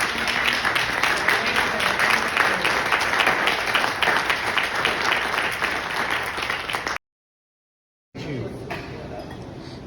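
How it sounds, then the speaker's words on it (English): Audience applause at an event honoring a team's dedication to FEW's mission, a dense steady clapping crowd for about seven seconds, then a brief cut to silence before quieter room noise resumes. "Let's give them a round of applause"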